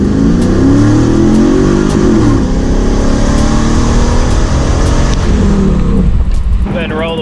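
Chevrolet F-body with a 3600 stall converter pulls up a highway on-ramp, its engine droning loudly and steadily with rising revs from inside the cabin, wind and road noise thick around it before the pull eases off near the end.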